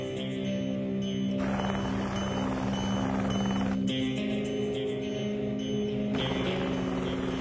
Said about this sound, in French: L'hélicoptère cale dans la neige jusqu'à la cabine.